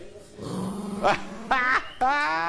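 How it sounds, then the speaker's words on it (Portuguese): An angry dog growls low and continuously up close, broken by three sharp snarling barks or yips, while a person talks nearby. "Cão corintiana. Olha que brava."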